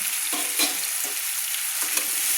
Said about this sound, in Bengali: মিষ্টি কুমড়ো দিয়ে দিলাম দিয়ে ভালো করে নেড়ে নিলাম